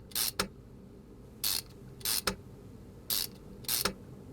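A ratchet removing intake manifold bolts in the Car Mechanic Simulator 2021 video game: six short, crisp clicking bursts in an irregular rhythm, close and clear over a quiet background with no talk.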